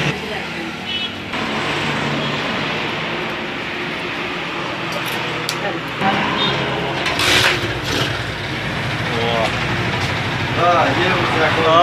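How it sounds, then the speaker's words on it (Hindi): Hero CD 70 motorcycle with a freshly rebuilt engine runs steadily throughout, a continuous mechanical drone that stays loud and close while people talk over it. "अभी हम दोबारा आपको आवाज़ सुनाएंगे इसकी, फिर आपको बड़ा पसंद आएगा ये मोटरसाइकिल हमारा"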